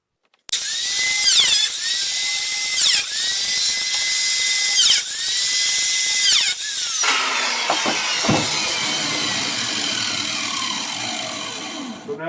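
A power tool cuts biscuit slots into skirt boards, with several loud whining bursts of the motor spinning up and cutting, short pauses between them, then a rougher grinding and rattling run toward the end.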